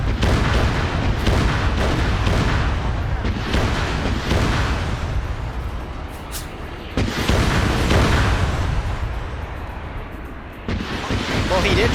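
Gunfire and explosions in the game Pay4Pain during vehicle testing, dull repeated booms and rumbling blasts with a surf-like wash, loud and sustained, while people talk over it.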